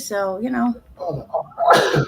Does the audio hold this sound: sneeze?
yes